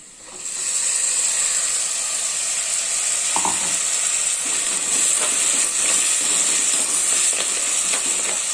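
Steady loud sizzling of ground tomato paste poured into hot oil, a continuous hiss with crackles and bubbling that carries on throughout.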